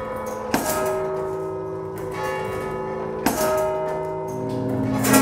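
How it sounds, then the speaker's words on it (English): Two loud church bell strikes ring out a few seconds apart in the clock room of St Paul's Cathedral, each leaving a long humming resonance that lingers between them. "just in time to hear the bells ring"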